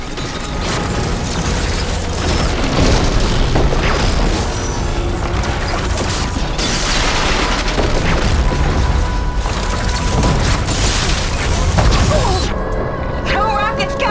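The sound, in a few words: rocket explosions in video game Horizon Forbidden West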